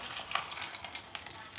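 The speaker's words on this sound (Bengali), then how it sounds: "গাইস দেখেন পরোটাটা ভাজি গেছে প্রপারলি।" A paratha fries in a pan with a soft, quiet sizzle, a brief, low hiss of oil with faint crackles.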